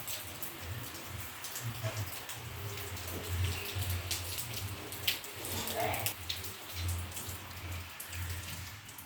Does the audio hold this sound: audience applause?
no